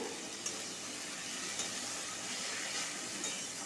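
Ginger and green chilli paste sizzling and frying in a pan with helencha greens, a steady soft hiss with faint stirring clicks, fairly quiet and close, no talking.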